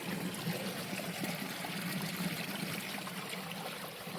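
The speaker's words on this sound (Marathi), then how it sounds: "बघा धबधबा छोटासा." A small waterfall trickles into a stream near a village, a steady soft rush of flowing water heard up close without a break.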